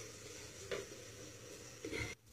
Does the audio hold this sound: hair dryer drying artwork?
no